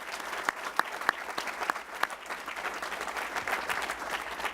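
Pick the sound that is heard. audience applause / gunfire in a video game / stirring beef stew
audience applause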